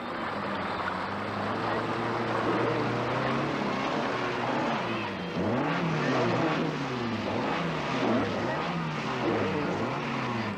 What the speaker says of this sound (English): There's nothing quite as slippery as Kenyan mud, as Jean-Pierre Nicolas' Peugeot demonstrates at this control